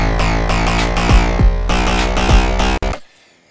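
Low bass frequencies driven into heavy distortion by the Bark of the Dog effect in Ableton Live, a loud saturated rhythmic bass pattern that cuts off abruptly into near silence.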